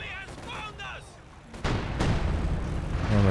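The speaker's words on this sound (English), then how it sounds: "Go for some attack ground shots here." Tank firing attack-ground shots in the WWII strategy game Company of Heroes 2, with loud booming blasts and rumbling battle noise that swell in the second half, under a game voice line early on.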